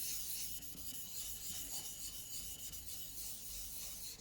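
An older chisel's bevel is rubbed back and forth on a waterstone during freehand sharpening, a steady close gritty scraping that continues evenly throughout with no voices.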